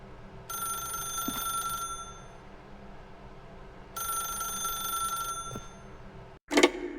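Telephone in The Stanley Parable video game rings in two long bursts with a pause between, loud and clear with no voices over it.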